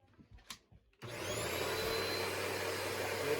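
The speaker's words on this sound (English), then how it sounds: "We're going to first show our control again with our vacuum cleaner here." A vacuum cleaner switches on after a second of quiet and runs steadily at close range, a loud continuous whine-and-rush roar that holds level to the end.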